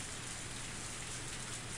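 Rain falls in the video game Higurashi When They Cry, a dense, unbroken hiss at even loudness throughout.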